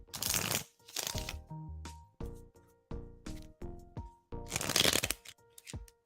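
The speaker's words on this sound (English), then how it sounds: "Let's shuffle for you now." Tarot cards being shuffled by hand in several crisp bursts of riffling and tapping, close and clear, separated by short quiet gaps.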